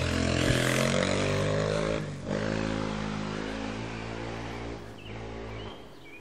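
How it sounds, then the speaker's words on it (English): A 1994 Yamaha Warrior 350 ATV runs steadily nearby with a loud, buzzy engine drone, briefly dipping around the midpoint and again near the end as throttle eases. "my dad test ride my 94 Yamaha Warrior"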